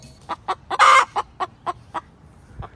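Chickens cluck in a quick series of short, close calls, with one louder, longer squawk partway through.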